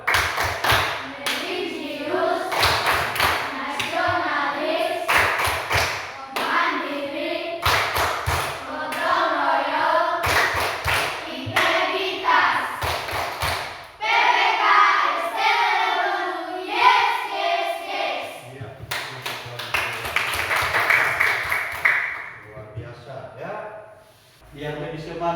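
A school class performs the rhythmic "tepuk PPK" clapping chant, with bursts of sharp claps in patterned groups interleaved with children and a teacher chanting and speaking throughout.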